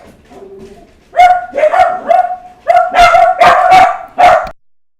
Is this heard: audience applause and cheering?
no